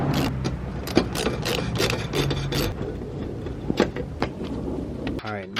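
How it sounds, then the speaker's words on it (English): Scraping and rasping against a car's front bumper as a front license plate is pulled off, with repeated short bursts of friction and clicks up close, a voice talking over parts of it and a brief whirring sweep near the end. "Let's see here. Let's take this thing off."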